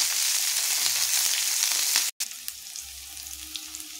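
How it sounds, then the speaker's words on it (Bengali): Diced onions and capsicum fry in hot oil with an even, loud sizzle, broken by a brief silent gap, then a softer crackle with occasional scraping and stirring sounds. "এগুলো দিয়ে এগুলো হালকা একটু নাড়াচাড়া করে ভেজে তুলে নেব।"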